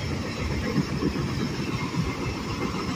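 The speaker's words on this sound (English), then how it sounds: "BNSF has a flat wheel" A BNSF freight train with a flat wheel rolls past nearby, a steady low rumble with repeating thumps and clatter, no voices.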